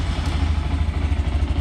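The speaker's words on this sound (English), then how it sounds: "a stock 2022 Honda Grom. That's its fresh startup idle." A stock 2022 Honda Grom motorcycle idles right after a fresh startup, a close, loud, steady single-cylinder putter with a slightly uneven rhythm and no talking.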